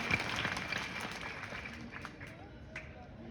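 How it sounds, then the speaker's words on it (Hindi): Students applaud at a motivational seminar on a school campus, scattered clapping running through the whole stretch at moderate volume with voices mixed in. "चलो दाल के लिए तालियां बजाओगे।"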